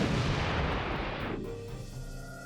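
A Stryker vehicle's M68 105mm tank cannon fires a single loud, booming shot that rolls out into a long, heavy rumble and fades slowly with no voices present.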